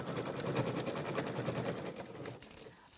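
A sewing machine stitches gold thread over a piece of mylar on a mini quilt, giving a fast, steady mechanical whir close by for about two seconds before it slows and quiets, with a short knock at the very end.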